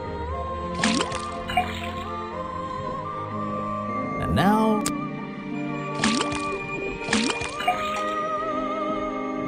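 Liquid from a sample drips out of a faucet in the video game Detective Grimoire, a series of four hollow, resonant plinks spaced a second or more apart over a musical backdrop, with a brief spoken line.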